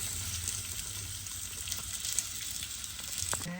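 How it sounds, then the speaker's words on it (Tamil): Chopped onions sizzle and fry in a pan for a mango curry, a soft, steady crackle with occasional faint clinks. "ஒனியன் நல்லா வதங்கணும்."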